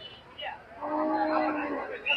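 A drawn-out, low bellowing cow moo rises and holds for over a second at a cattle market, fairly close, with faint background noise.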